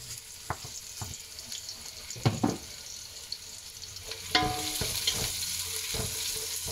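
Sliced onions fry in hot oil and ghee for biryani, giving a soft continuous sizzle broken by sharp clinks and scrapes of stirring, which grow busier and louder toward the end.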